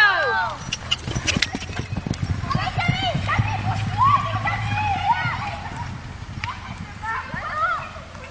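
Wild ponies gallop past with rapid clip-clop hoofbeats, moderately near, while people talk and call out over them, and a few faint whinnies sound in between.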